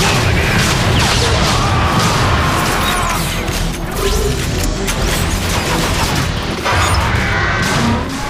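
A Chaos Rift Combustor cluster bomb in Transformers: Fall of Cybertron scattering into small bombs, producing a loud, continuous run of crashing, overlapping blasts and debris for several seconds.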